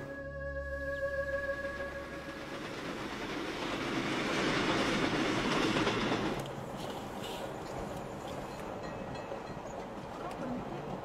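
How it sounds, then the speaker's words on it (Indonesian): A Jakarta-Jogja express train rumbles steadily along with broadband rolling noise that swells midway, then continues at an even level; brief tonal sounds at the very start. "Saya dalam perjalanan bisnis naik kereta ekspres Jakarta-Jogja saat kereta tiba-tiba berhenti."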